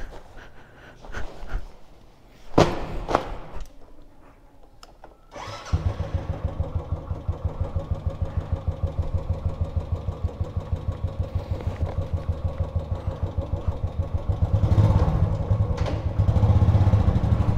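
A motorcycle is started after a few clattering attempts and clicks, then settles into a steady, close, rhythmic idle that briefly swells louder near the end, with no talking.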